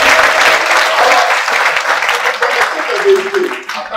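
A church congregation applauds and cheers during a Sunday worship service, a dense, steady wash of clapping with voices mixed in, loud and sustained for the whole stretch before thinning slightly at the end.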